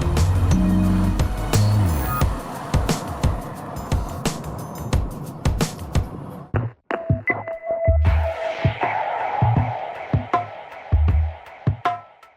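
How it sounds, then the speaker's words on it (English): A car cruises at moderate revs along a road in Laos, heard from inside as a steady engine and road hum with frequent knocks and bumps, and a brief dip partway through. "the car's pretty relaxed, not doing very high revs, pretty good gearbox."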